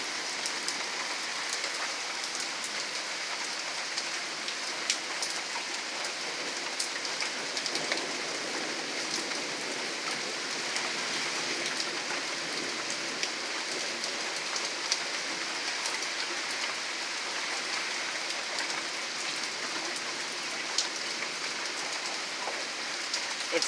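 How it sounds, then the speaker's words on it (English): Steady, heavy rain pours outside a house during a hot, humid summer storm in Wisconsin, a constant close hiss of drops on surfaces that holds at an even level throughout, with no voices. "Rain."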